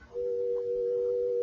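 A telephone dial tone returns to the line, a steady, unbroken single-pitched hum that starts abruptly and holds evenly throughout, fairly quiet and alone.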